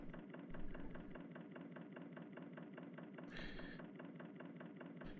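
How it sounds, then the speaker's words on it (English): Narrowboat engine idling in the Narrowboat Simulator game, a steady low rhythmic chugging throbbing evenly throughout, with a brief higher hiss partway through. "Oh, I love the sound of that engine."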